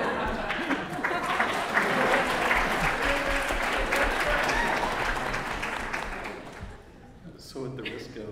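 Audience applause at an interdisciplinary cognitive science conference panel, a steady wash of clapping from a full room that carries for several seconds and then thins out.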